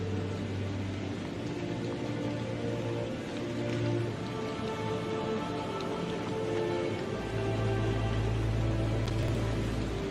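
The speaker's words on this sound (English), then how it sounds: "The rains poured down onto the earth, and the floodwaters quickly rose." Steady rain pours down in The Bible video game as a dense, even hiss with a low rumble underneath, continuous and fairly loud throughout, with no voices.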